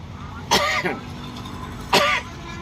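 Two harsh coughs, a second or so apart, close to the microphone over a steady low background hum.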